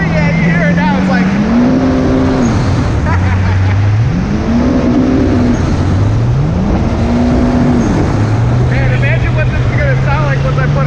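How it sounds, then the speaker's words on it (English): A 2019 Yamaha GP1800R jet ski engine drones and rises in pitch over and over, a rising supercharger whine under each rev, with breathy blow-off valve whooshing bursts as the revs drop. "hear what the supercharger is going to sound like with the new blow-up valve"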